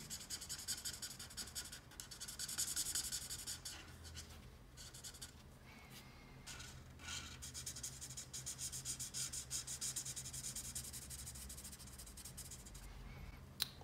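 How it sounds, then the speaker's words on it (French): A pen or marker colours in a zombie teddy bear emoji drawing from Fortnite, making faint, steady scratchy rubbing strokes in rhythmic bursts with short pauses between. "on va colorier tout le bord des oreilles et le contour supérieur du visage"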